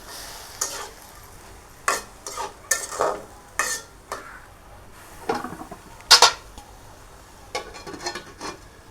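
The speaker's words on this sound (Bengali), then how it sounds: "আর নেড়ে সেড়ে কিছুক্ষণ ঢেকে দেব" Jackfruit seed curry being stirred and fried in a pan: a series of separate scraping spoon strokes over a soft sizzle, close up, with one sharp metallic clink near the end and no talking.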